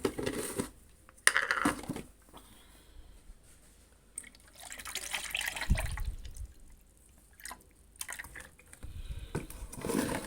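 Soaked fruit peels squeezed by hand in water inside a jug, giving wet crushing and dripping bursts that come and go over quiet stretches, close to the listener.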